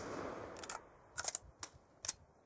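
Scar-H assault rifle fired in Black Ops II: a few separate short bursts and single sharp cracks spaced out over a couple of seconds, fairly quiet, with no talking.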